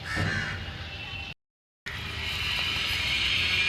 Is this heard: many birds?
yes